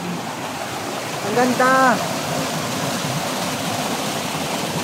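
Clear water flows in a mountain stream with a constant broadband rush, close by. Someone says a few words briefly over it.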